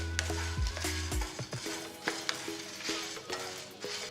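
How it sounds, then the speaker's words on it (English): Red chillies and small tamarind pieces dry roasting in a pan over a medium-low flame, soft rustling and scraping as they are stirred, with a few clinks of a utensil against the pan over a brief stretch. "Dry roast the ingredients on a medium-low flame for about 5 minutes."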